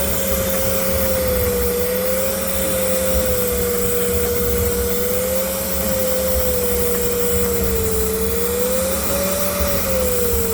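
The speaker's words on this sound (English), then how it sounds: "I gotta have that fan cranked up a bit higher using this duct" A Voron 3D printer runs with its part-cooling fan cranked high through a duct, giving a loud, steady whir and hum with a faintly wavering tone that drones on without a break.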